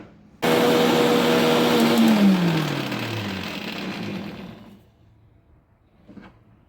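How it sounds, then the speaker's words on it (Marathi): A kitchen mixer grinder whirs loudly as it grinds dried moringa leaves into powder, starting abruptly, running for a few seconds, then winding down with a falling motor whine before going quiet. "ही मिक्सरमध्ये अशी फिरवून घ्यायची."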